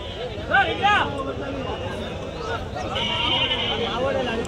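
Lambs bleat a few times amid a noisy crowd of voices and general outdoor bustle at a weekly livestock market.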